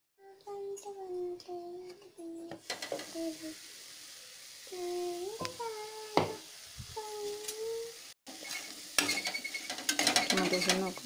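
Tomatoes mashed and stirred in a cooking pan for a mutton liver and brinjal gravy, with sizzling, scraping and clinks of a utensil against the pan, close and intermittent, while a person speaks over much of it.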